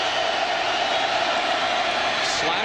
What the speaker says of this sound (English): K-State's cheering section making as much noise as they possibly can.